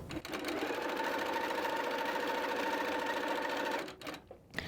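A sewing machine stitches quilt fabric, a close, steady mechanical whir with a fast regular rattle that runs for about four seconds and then stops, followed by light handling noise.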